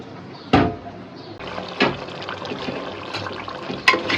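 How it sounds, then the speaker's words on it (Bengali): Rice and lentils being rinsed and stirred in a bowl of water, with sloshing splashes and a few sharper knocks against the vessel, close by and without talk. "চালটা সুন্দর করে ধুয়ে ভিজিয়ে রাখছি"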